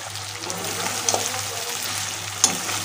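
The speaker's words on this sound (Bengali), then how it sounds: "এবার আরেকটু ভালো করে কষিয়ে নেব যেহেতু আটাগুলো দিয়েছি" Ginger paste frying with chicken in a pan sizzles steadily and close, with a couple of sharp stirring clinks and scrapes of the spoon against the pan.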